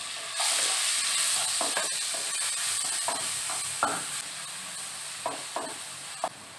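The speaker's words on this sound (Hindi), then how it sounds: "इसमें हम लोगों ने जो ऑनियन और ग्रीन चिली का पेस्ट बनाया है वो ऐड कर लेना है और मिक्स कर लेना है" Onion and green chili paste sizzles and hisses steadily in a hot pan with chili powder, punctuated by a few sharp scraping stirs.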